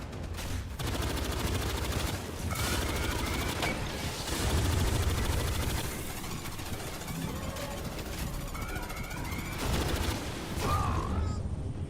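Turret gunfire in the Aliens: Fireteam Elite video game: dense, continuous rapid shots and explosive bursts layered over a mechanical rumble, loud and sustained throughout.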